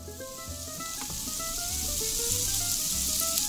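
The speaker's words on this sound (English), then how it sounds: "stir frying is Chinese way of cooking it." Beef and mixed vegetables including cauliflower stir frying in a pan, a steady bright sizzle with scattered clinks and scraping from cooking utensils, no talk.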